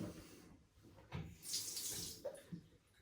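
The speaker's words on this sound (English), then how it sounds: "You just wet the alum block with cold water." Cold tap water splashes over an alum block in short uneven bursts, close and fairly quiet, with gaps between the splashes and no voices.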